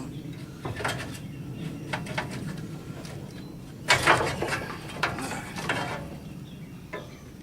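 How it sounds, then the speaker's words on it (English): A ratchet backs bolts off the gearbox of a Massey Ferguson Model 25 tractor, giving faint, irregular mechanical clicking and ratcheting bursts with short pauses and a louder flurry midway. "Now we can take finish taking these bolts off this gearbox."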